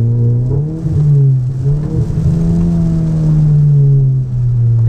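A Volkswagen Golf GTI Mk7 engine heard from inside the car, loud and steady, its pitch rising and blipping as the paddle shifters drop a gear, with no talking.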